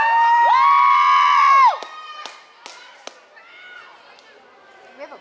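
Spectators at a high school girls' varsity soccer match between Shorecrest and Edmonds Woodway let out one loud, drawn-out cheer, then a few sharp thumps and faint scattered voices follow.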